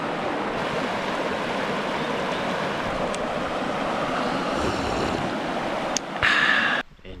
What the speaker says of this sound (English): Standing on a rock in the middle of the stream, so gotta keep my balance.